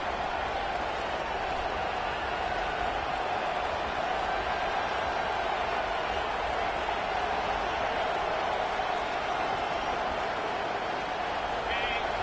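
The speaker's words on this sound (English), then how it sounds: "This crowd, full throat, spreading the eardrums and letting them know it's going to be a long day." A football stadium crowd at an Alabama versus Notre Dame game roars as one loud, continuous wash of noise that fills the whole stretch, with commentary running underneath.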